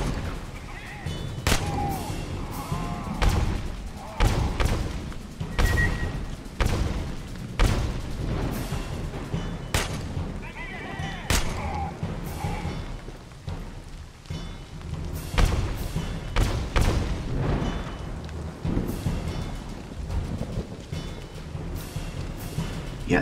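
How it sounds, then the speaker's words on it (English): An AA gun fires in the Aliens: Colonial Marines video game, a long run of heavy thumping blasts at an irregular rhythm over a dense rumbling battle background, with a voice talking now and then. "so that's an AA gun"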